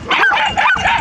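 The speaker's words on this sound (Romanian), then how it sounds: "Asta e cățelul care l-aveam astăzi." A nine-month-old sheepdog pup at a sheep farm gives two quick high yelping barks in close succession, loud and close, with wind noise faint underneath.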